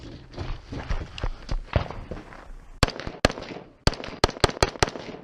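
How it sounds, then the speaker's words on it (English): Rifle shots ring out at a steel double spinner target during a shooting stage, sharp loud cracks in quick irregular succession after a busier stretch of shuffling and movement noise. "From the final position, the shooter engages the double spinner again with rifle."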